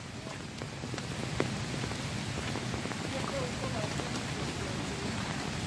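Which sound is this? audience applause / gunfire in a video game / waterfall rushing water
waterfall rushing water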